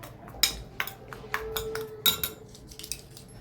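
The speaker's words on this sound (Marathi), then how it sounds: "हे सर्व मिश्रण हलवून घ्यायचं व्यवस्थित." A spoon clinks repeatedly against a bowl while stirring homemade aloe vera gel mixed with vitamin E capsule oil, giving a string of close, bright metallic taps at an uneven rhythm.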